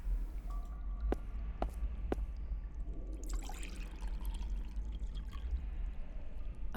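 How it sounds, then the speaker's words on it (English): Water drips into a pot in the Excavation of Hob's Barrow adventure game, a few faint, isolated plinks over a quiet, hushed background. "I hear dripping."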